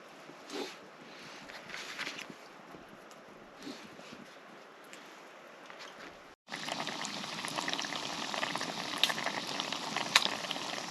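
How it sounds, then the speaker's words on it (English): Onions cook in a pan at a wild camp beside a cave, starting as a faint bubbling hiss and then jumping to a louder, steady crackling sizzle partway through, close by and with no talking. "While my onions are cooking"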